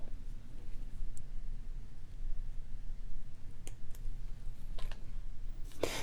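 Pliers snip the wire tail off a handmade wire-wrapped bracelet, giving a few small, sharp clicks spread over several seconds against a quiet background hum.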